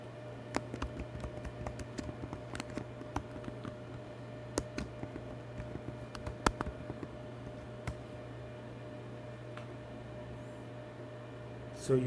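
Soft, irregular keystrokes as a password is typed on a computer keyboard, a quiet scattering of clicks over a steady low hum, with no talking.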